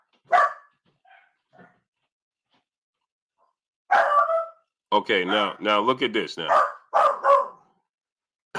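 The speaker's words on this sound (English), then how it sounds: "Pardon my dogs, people." Dogs bark indoors in several short bursts spread across the clip, some sharp and loud, mixed with someone talking.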